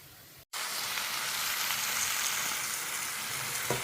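Onions fry in sesame oil for vatha kuzhambu, a steady, dense sizzle close by that drops out for a split second, then hisses on evenly.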